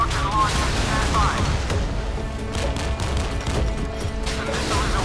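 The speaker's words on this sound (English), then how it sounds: "The missile is away." A missile launch in the naval video game Modern Warships, heard as a dense, continuous roaring rush of blast and rumble that stays loud and steady throughout.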